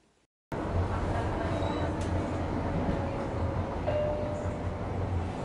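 After a moment of near silence, a Tyne and Wear Metro train cuts in at once with a loud, steady rumble of wheels and motors, holding even and continuous throughout with faint tonal whines.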